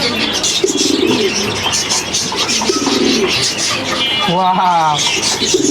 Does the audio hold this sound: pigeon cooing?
yes